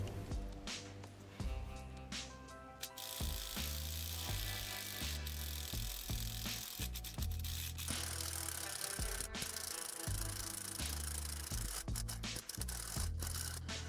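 A broken bolt on a GMC 350 engine is worked loose with an easy-out extractor: a steady run of close, grinding metallic ratcheting and scraping with a rough, pulsing rhythm, loud and continuous throughout.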